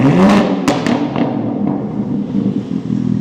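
BMW M4 G82 engine revved hard, a loud close roar with a sharp crackling pop at the peak, then settling into a deep burbling idle rumble that fades slightly, no voices.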